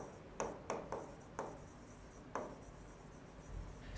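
Chalk or marker writing on a classroom board during a physics lesson, a series of short distinct strokes with pauses between, close and fairly quiet.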